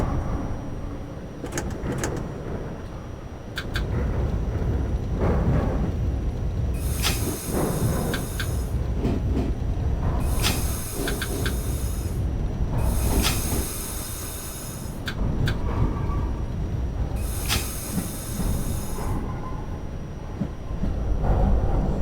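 A subway train on the Brighton Beach Line Q route runs in the OpenBVE train simulator game, giving a steady low rumble broken by several loud hissing, rushing bursts of a few seconds each.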